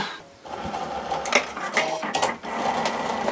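Cricut cutting machine cutting card stock for a floral print-and-cut card, giving a steady mechanical whir with repeated short clicks and carriage movements at close range, without speech.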